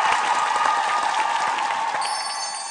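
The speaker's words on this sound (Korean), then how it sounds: "박수로 청해보겠습니다." A television game-show studio audience bursts into sustained, loud applause, a dense continuous clapping that carries on throughout and eases slightly near the end, with no talk over it.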